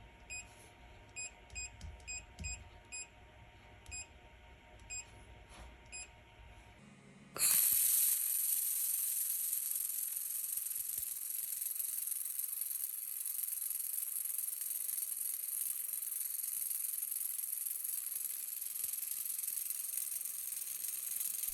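A 2000-watt EETO handheld fiber laser welder fires up on a warped metal plate after a few faint beeps and clicks, then holds a steady, close hissing buzz alone.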